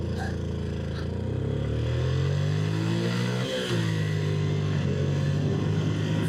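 A motorcycle on a Vietnam road trip accelerates hard from a standstill toward 50, its engine note climbing steadily through first gear with a brief dip at a shift before rising again, loud and close throughout.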